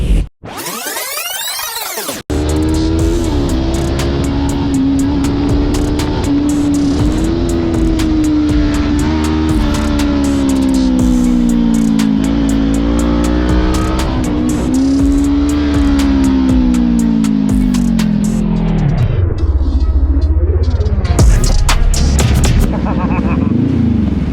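A rare motorcycle's engine revs hard through a tight corner just before a crash. It is loud and continuous, rising and falling in pitch, then drops off near the end with a few sharp bursts.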